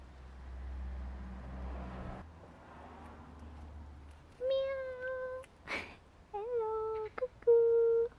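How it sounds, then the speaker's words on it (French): In a small seaside village in France, a nearby cat lets out several distinct meows, some drawn out and some clipped. Faint low background rumble comes before them, and no one talks. "Ça ressemble à un chat à moi."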